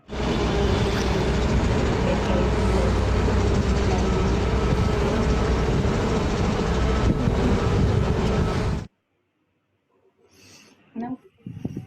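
A loud, steady rumble of a train passing close by a rooftop near the railway, filling most of the clip, then cutting off abruptly to near quiet with faint scattered sounds.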